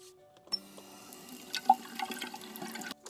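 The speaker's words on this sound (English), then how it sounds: "the first thing I'm going to do is wash my hands" Water running and splashing as hands are washed, for a toy baby-doll care play set, a soft continuous trickle with small irregular splashes, close and fairly quiet.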